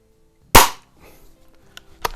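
A single sharp, close crack from a vintage Benjamin Trail NP .177 break barrel air pistol firing a budget rifle-style pellet, followed by faint handling noise and a second softer knock about a second and a half later.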